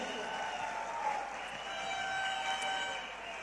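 Steady, dense applause from a standing audience honouring Dr Ashok Bhatia at a business event in Haridwar, a continuous even wash of clapping with a faint voice underneath.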